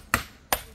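Two sharp hammer blows strike rock while helping build a house, each a hard close impact with a short ringing decay, spaced about half a second apart.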